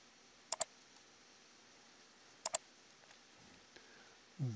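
Two crisp computer mouse double-clicks, each a quick pair of sharp ticks, sound about two seconds apart against a quiet room, followed by a faint tap and a soft thud at the end.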